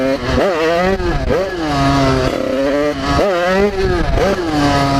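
A 50cc motorcycle revs hard during a wheelie, its engine surging and dropping in repeated close, loud bursts that climb in pitch and then fall back.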